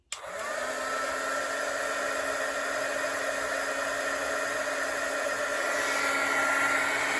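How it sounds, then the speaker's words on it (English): Heat gun for embossing switched on with a sudden onset, then blowing as a steady, loud, close whooshing roar with a faint whine throughout, no voices. "I'm going to grab my heat gun, so everybody adjust your volume accordingly"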